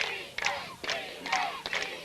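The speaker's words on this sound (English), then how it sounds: "We get the entire Sharon crowd getting into it here with the chant of defense, defense." Home crowd at a Sharon high school football game against Sandwich chanting "defense" in rhythmic bursts, roughly four rising shouts spaced evenly, heard from a distance and fairly faint.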